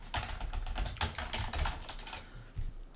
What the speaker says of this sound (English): And I'm going to be typing fast here.